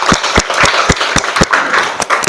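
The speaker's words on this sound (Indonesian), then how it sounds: "silakan kita kasih aplaus" Students in a classroom give a group a round of applause, brisk, loud hand claps with a steady, slightly uneven rhythm lasting a couple of seconds.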